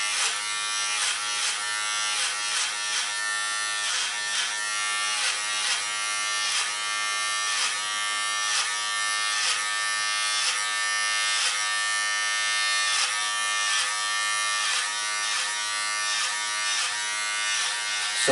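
Electric hair clippers cut hair in a steady, close, high buzz that runs throughout, rising and dipping slightly as the blades pass through the hair, with no talking.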